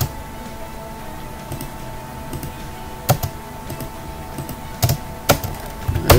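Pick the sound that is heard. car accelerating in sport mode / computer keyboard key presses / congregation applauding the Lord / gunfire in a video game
computer keyboard key presses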